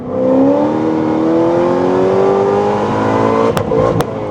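A stock C6 Corvette ZR1 engine revs hard and climbs steadily in pitch, then a couple of abrupt cracks and a stumble as the gear change misses, with the engine note wavering.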